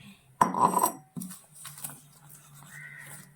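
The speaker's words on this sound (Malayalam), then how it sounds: "നമ്മൾ എടുത്ത പൊടിയും ഈ തേങ്ങയും കൂടി നന്നായിട്ടൊന്ന് മിക്സ് ചെയ്ത് വെക്കണം" Flour and grated coconut are mixed in a bowl for pidi, heard as a burst of metallic clatter and scraping from a utensil against the bowl, then quieter intermittent knocks and rustles.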